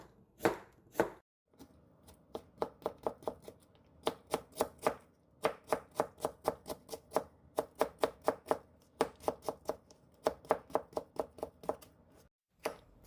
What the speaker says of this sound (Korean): 오이 반 개도 채 썰어 주세요.